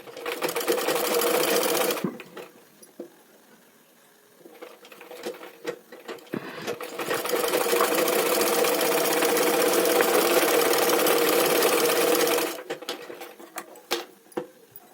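A sewing machine stitches a lining blouse sleeve, running in a short steady whir, then stopping for quiet handling clicks, then a longer continuous run of close, even stitching before it stops again.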